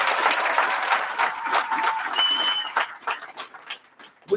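An audience at a graduation ceremony applauds the graduates, a dense burst of clapping that thins into scattered claps toward the end, with faint whistles and a few voices mixed in.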